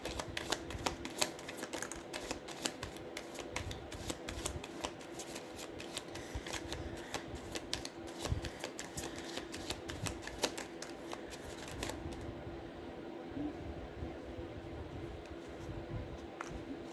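Tarot cards shuffled by hand in a dense, continuous riffle of close, crisp paper flicks that runs steadily throughout, the rapid snapping never pausing.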